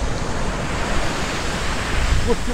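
Rough sea waves crash and surge on Tokunoshima's Prince Beach during a typhoon, a loud continuous roar of surf and wind buffeting close to the microphone.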